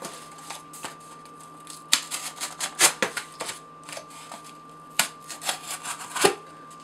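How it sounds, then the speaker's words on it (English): A ScrapYard Scrapivore knife slicing cardboard during an edge retention test, producing a run of sharp, close scraping and crunching strokes in irregular bursts, some louder than others, with no talking. "Cut that side."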